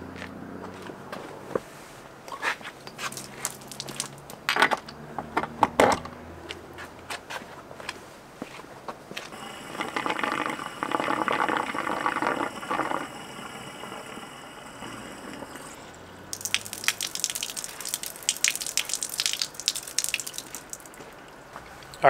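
Water runs into a travel trailer's fresh water tank during sanitizing, a rushing, splashing flow that comes and goes, with drips, nearby footsteps and a low engine-like hum between bursts.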